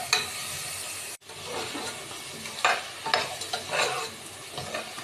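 Garlic fries in butter in a pan while being stirred, a steady sizzle broken by a brief pause and then scraping stir strokes over the crackle.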